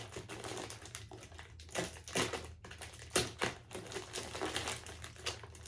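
A heavily taped package is pried open with a run of crinkly tearing and crackling bursts and tapping scrapes, close and uneven in rhythm, fairly quiet overall with no talking.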